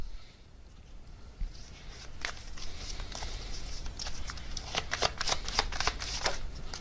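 Tarot cards being shuffled by hand, a soft, quiet papery riffle and patter that grows busier and slightly louder over several seconds, close with no talking.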